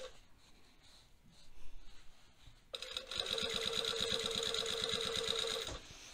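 A sewing machine stitches a trouser seam, starting after a quiet pause and then running in a steady, fast mechanical whirr with rhythmic needle clatter, close up, before stopping.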